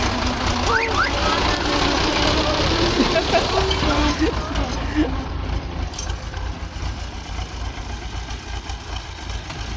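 A tractor engine idles steadily with a low rumble throughout in a village in the morning, while people talk faintly over it.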